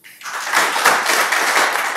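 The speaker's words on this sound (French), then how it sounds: "Sous vos applaudissements." Audience applause at a Gabon independence ceremony in Rome, a dense steady wash of clapping that swells in quickly and holds loud and even for about two seconds.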